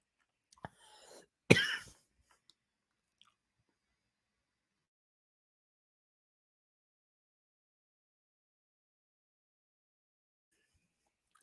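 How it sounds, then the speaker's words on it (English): A person gives a single sharp cough close to the microphone, preceded by a couple of small clicks and throat noises. Near-silence follows for the rest of the stretch. "I'm going to mute myself so I can cough."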